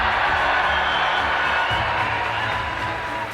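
Packed auditorium crowd cheering loudly and continuously for the New Zealand and Indian prime ministers, a dense sustained roar of voices and whoops close and even throughout.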